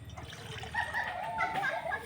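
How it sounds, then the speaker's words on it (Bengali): Water pours into a wok set on a lit stove, a short close splashing trickle with a voice faintly present underneath. "এবার কড়াতে দেব জল"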